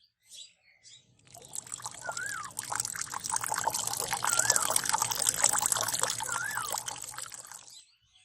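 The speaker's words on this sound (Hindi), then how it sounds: "किशन भैया, पानी डाल दिया?" Water is poured out for farm animals, a steady splashing stream that starts after a couple of faint knocks, runs loud and close for several seconds, then stops abruptly.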